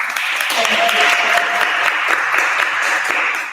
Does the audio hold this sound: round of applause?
yes